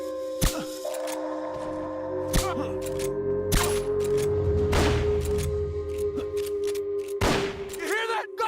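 Gunshots in the Metal Gear Solid video game during a train mission: several sharp, spaced bursts of gunfire over a droning background hum, with some ringing tones between shots.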